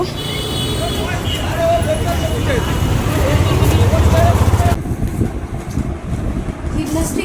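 An auto rickshaw ride through rainy-day city traffic: a steady rumble of engines and road noise, loud and continuous, with a sudden drop in the high hiss partway through and indistinct voices in the background.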